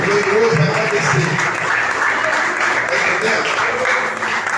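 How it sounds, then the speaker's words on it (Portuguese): Church congregation clapping in a dense, continuous wash of hands throughout, with murmured voices and low background sound blended beneath. "Dá uma salva de palmas para Jesus e para você"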